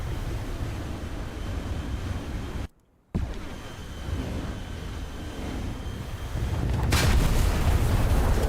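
Bombs from an aircraft explode in War Thunder air realistic battles: a constant roaring wash, a brief cut to silence, then a heavier, louder rumbling swell toward the end, with no speech.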